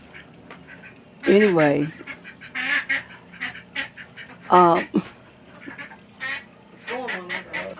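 Ducks honk and quack in loud, close bursts, separated by gaps, while a person talks in between.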